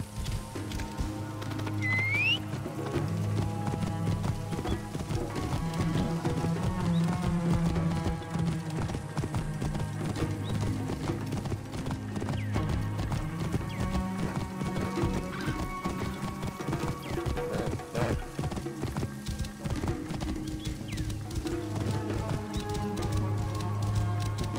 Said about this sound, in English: Hello, horse. Getting some water?